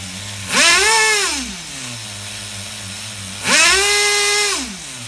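An HPI RS4 Nitro F150 RC car's small nitro engine revs up twice in sharp rising bursts, each holding a high whine before dropping back to a steady buzzing idle, close and loud with no talking.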